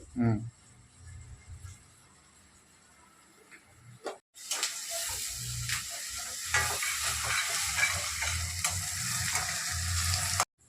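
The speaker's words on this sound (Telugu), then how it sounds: "ఇవన్నీ మనం ఉల్లిపాయ వేగుతూ ఉన్నప్పుడే మనం కరివేపాకు వేసుకోవాలి" Onions and curry leaves frying in a pan for a drumstick chicken curry, a dense sizzle that jumps loud after a brief pause and runs on steadily with scraping stirs, over quieter kitchen sounds and a voice early on.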